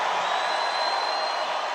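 A large political rally crowd in Uniondale, New York, roars and cheers in a continuous wash of voices, loud and sustained with no single speaker standing out.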